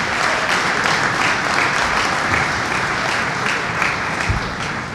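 Crowd applause in a gym at a boys high school basketball game, a sustained wash of clapping from many hands, loud and steady throughout with a few scattered shouts.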